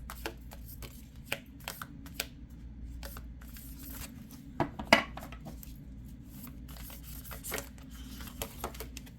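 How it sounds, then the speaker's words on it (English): Tarot cards being shuffled by hand: soft riffling and slapping clicks scattered irregularly over a quiet room background, with a sharper tap near the middle and no talking. "I love this deck, but it's so difficult to shuffle."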